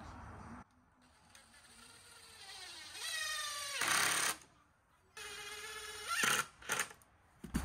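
A power drill driving 1.5-inch screws into a wooden fence picket, several bursts of whining motor that rise in pitch and end with a brief loud grind, close, with quiet gaps between.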